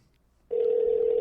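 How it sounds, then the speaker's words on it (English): A telephone tone starts abruptly after a brief quiet and holds as a steady, loud electronic ring on a call line, with no talking over it. "Ringing. It's ringing."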